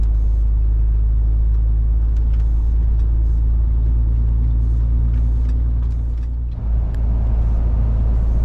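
A Chinese-made car overtakes on the road near a customs post at night, its engine a steady loud rumble close by with no clear pass-by swell, and no talking.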